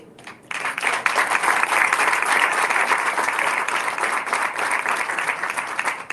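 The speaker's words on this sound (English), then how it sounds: "If y'all would stand up so we can give them a round of applause." A standing crowd applauding first responders honored after a New Orleans terror attack, sustained dense clapping that starts abruptly and holds at an even, loud level.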